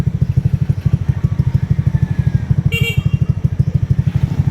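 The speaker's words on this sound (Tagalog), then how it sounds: "Susubukan ko ngayon na dadadaan yung aming mga motor." Motorcycles rumble across a newly built hanging bridge, with a steady, close, pulsing engine throb at low speed and a brief metallic clatter partway through.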